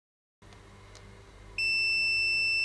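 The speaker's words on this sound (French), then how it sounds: "Et là, ça fait bien bip." After a short stretch of low hum, a car's brake fluid level sensor gives a steady high-pitched electronic beep that holds continuously at close range.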